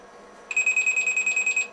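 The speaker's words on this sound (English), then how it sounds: "So if we hit the D key, it should dial, and this phone should ring." An NMT450 analog cellphone ringing: after a brief quiet moment a loud, steady electronic ring starts, warbling in rapid even pulses and sounding alone and close.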